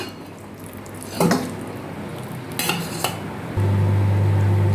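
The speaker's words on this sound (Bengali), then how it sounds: "এবার নামিয়ে দেবো হয়ে গেছে এবার আমি ঢেলে দিচ্ছি" Cooked malai Kashmiri aloo dum is scraped out of a metal pan with a spoon in a few clattering bursts, and then a steady low hum starts and continues to the end.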